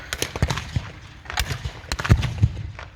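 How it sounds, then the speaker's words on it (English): A WW1 tank at a battle reenactment firing its 6-pounder guns, several sharp, irregular blasts over about three seconds, fairly close and loud, with some crackling between shots and no talk. "She's opened up with her 6-pounders."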